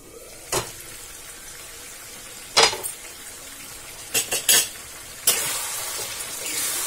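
Chicken curry being stirred in a pan over a medium gas flame, with several scraping clinks of a spoon against the metal and a soft steady sizzle underneath, no talking.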